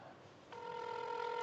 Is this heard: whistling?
no